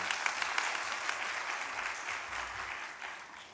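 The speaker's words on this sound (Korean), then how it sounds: "박수로 환영해 주시면 감사하겠습니다" A church congregation at a Sunday school summer thanksgiving service claps to welcome a mother coming up to give her testimony, a soft, fairly distant wash of steady applause with no voices over it.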